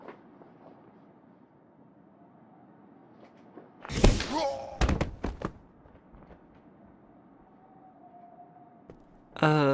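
A sudden loud video game explosion with crashing, ringing debris bursts out of a quiet background hum, followed by a few sharp thuds before things settle.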